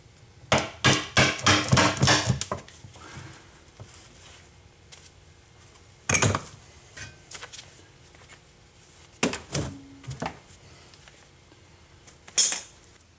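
Sharp metallic hammer taps on a rear brake part of a 2005 Town & Country being seated during a pad and rotor job: a quick burst of several knocks, then scattered single taps spaced seconds apart, close and fairly loud.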